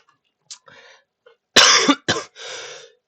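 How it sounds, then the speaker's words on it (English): A person coughs, first with a couple of small throat sounds and then with a harsh burst of close, loud coughs and a short trailing exhale, separated by silence. "I don't know what I just coughed from."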